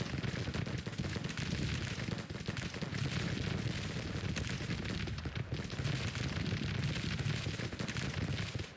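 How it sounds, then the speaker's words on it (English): Dense, continuous crackle of distant gunfire and explosions in a Civil War strategy video game battle, a busy battle din rumbling on without pause. "I've got to shout over the sound of the bloody"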